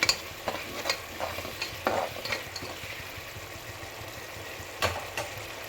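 Garam masala is stirred into a pulao mixture in a pan, with intermittent scraping and clattering spoon strokes over a low, steady background sizzle that quiets toward the end.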